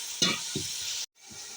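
Chicken with onion and garlic fries in a pan for aloo chicken pulao, giving a steady close sizzle broken by a few soft stirring scrapes, with a brief gap near the end.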